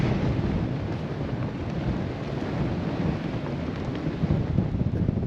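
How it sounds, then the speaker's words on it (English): Strong wind on a sailboat at sea roars and buffets the microphone in a continuous, heavy rush with gusty surges and no voices. "This wind is insane out here."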